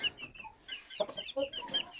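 Chickens and a rooster cluck and chatter in a coop holding turkeys, with busy overlapping calls near and far.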